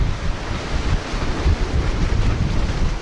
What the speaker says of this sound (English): So yeah, it is windy